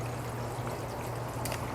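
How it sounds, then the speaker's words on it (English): Aquaponic return pump sending water into a hybrid grow bag bed, a steady pouring stream and trickle with a constant low pump hum underneath, no voices. "So this is pumping from here, and we're just going to make sure that it gets enough water in the bottom."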